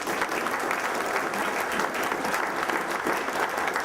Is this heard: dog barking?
no